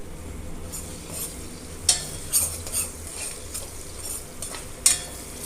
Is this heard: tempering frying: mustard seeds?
yes